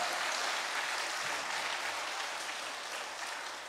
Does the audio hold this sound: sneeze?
no